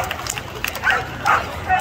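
Kelpie working dog at a dog jumping event, giving a few short yips and barks over crowd noise and an announcer's voice.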